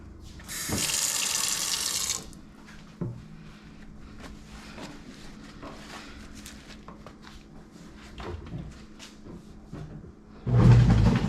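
Tap water runs into a kitchen sink for rinsing after cooking Jamaican curry goat and shrimp rice and peas: a loud gush at the start and again at the end, with quieter clinks and handling noises between.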